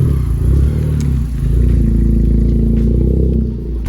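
A 10th-generation Honda Civic Si with a Thermal R&D aftermarket exhaust and an upgraded intake idles and revs nearby, a loud, deep, steady rumble that swells briefly.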